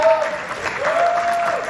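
An audience at a cinema panel discussion applauds the panelists, a short burst of steady clapping with a voice speaking over it.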